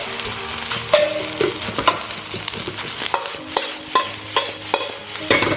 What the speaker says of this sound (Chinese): 不等蛋液凝固，我们把米饭放进来，打散